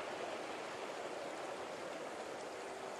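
Spring-fed stream on the Isle of Arran flowing over red granite, a soft continuous babble and hiss of running water, steady and fairly quiet, with no voices.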